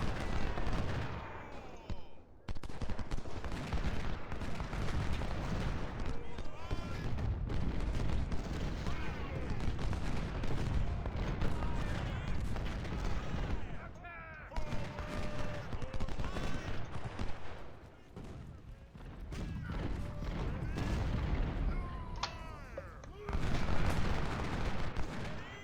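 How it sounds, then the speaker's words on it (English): Continuous artillery booms and rolling musket gunfire from a Fredericksburg battle in a video game, dense and loud for most of the stretch with brief lulls and a few sharper near reports. "Where the hell is that artillery going?"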